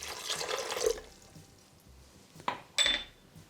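Water pours briefly into a container for a blended cashew dressing, followed by a couple of light clinks of dishes or a utensil in a quiet kitchen, with no talk.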